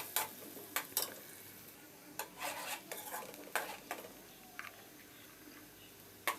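Onions for keema (beef) biryani being lightly sautéed in a pan: a soft, steady background sizzle broken by occasional clinks and scrapes of a utensil stirring against the pan, with no voices.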